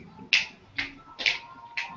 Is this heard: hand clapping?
yes